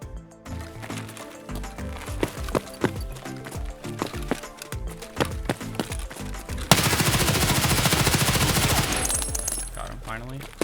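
Gunfire in Escape From Tarkov, a rapid string of sharp shots that gives way to a long, dense burst of sustained automatic fire that ends abruptly near the close.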